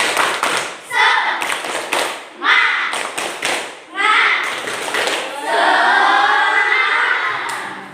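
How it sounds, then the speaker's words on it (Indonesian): Primary school class performing a rhythmic spirit clap chant, children clapping together in patterned bursts with pauses, chanting in unison alongside the claps, close and loud. "Kita bersama-sama tepuk semangat. Yuk, tepuk semangat."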